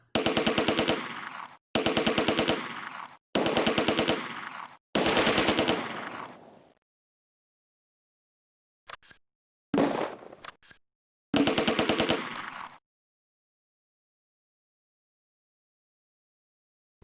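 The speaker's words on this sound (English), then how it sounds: "I don't even know who they're shooting at anymore." Automatic weapons fire in Close Combat: A Bridge Too Far, a World War II strategy game: four long, loud, rattling machine-gun bursts in a steady rhythm, a pause, then a few sharp scattered shots and one more full burst.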